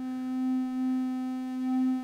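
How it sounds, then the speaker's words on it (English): Steady triangle wave from an Erica x Klein .EDU FOLD wavefolder module, a clean sustained tone with harmonic overtones holding for about two seconds at even loudness with no speech. "there's the triangle wave right there"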